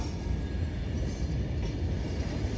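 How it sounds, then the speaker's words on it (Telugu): A very long iron ore freight train rolls past in Mauritania, a steady, dense rumble of heavy wagons with low clatter and faint high wheel whine, continuous and close throughout. "3 కిలోమీటర్ల ట్రైన్ చూడండి."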